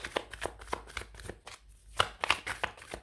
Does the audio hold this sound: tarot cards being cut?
yes